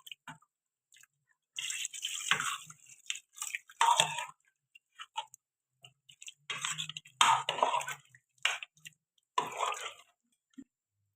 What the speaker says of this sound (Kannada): ನಾನೀಗ ಸಾಂಬಾರಿಗೆ ನೀರು ಹಾಕ್ತೀನಿ